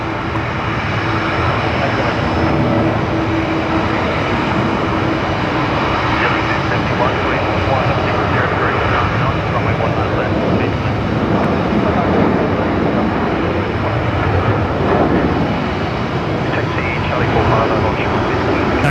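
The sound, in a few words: Velocity 978 airliner departing runway 19 left, Brisbane Airport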